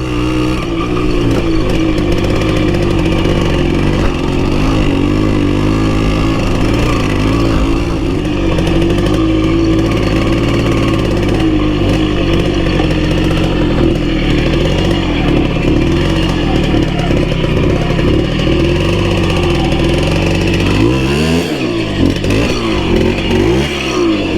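A Simson S51 moped's small two-stroke engine runs steadily at close range, droning and rattling, with a few sharp revs near the end; its carburetor is flooding.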